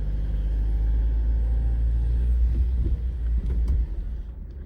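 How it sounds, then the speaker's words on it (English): Car slowly driving around the Bonito Campground loop near Flagstaff, Arizona, a low steady engine and tire rumble heard from inside, close and constant with slight changes as it rolls along. "just driving around real briefly"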